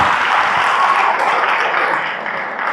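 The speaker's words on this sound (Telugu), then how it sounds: "ఇప్పుడు చప్పట్లు కొట్ట" An audience at a Hindu satsang gathering in Nellore claps together in a loud, steady burst that eases off slightly toward the end.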